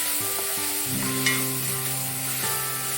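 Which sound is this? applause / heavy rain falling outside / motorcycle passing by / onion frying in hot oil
onion frying in hot oil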